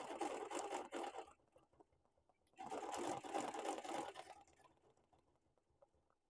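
A sewing machine runs in two steady bursts while free motion quilting a wholecloth quilt, each stretch of rapid stitching followed by softer, slower needle movement, close and fairly quiet with no talking.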